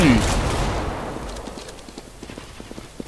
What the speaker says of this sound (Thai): ยิงกันตรงไหนวะ